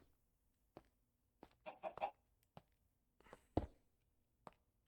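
A Minecraft chicken in the ATM9 modpack gives a few soft, scattered clucks between faint clicks and taps, quiet and close with silence around each call.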